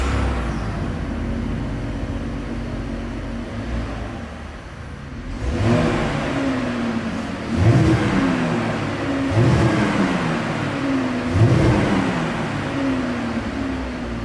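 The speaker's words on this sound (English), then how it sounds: "here is that exhaust clip" A 2020 Chevrolet Impala LT's exhaust revs several times over a steady idle, each blip rising and falling in a rhythmic series, close and fairly loud with no talking.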